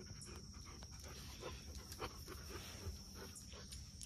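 A dog pants steadily at close range, quick rhythmic breaths going on without pause against a quiet room hum.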